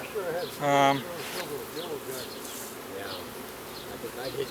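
Honeybees buzz around an opened hive during a colony split, a steady insect drone with one louder, nearer pass; people talk quietly throughout.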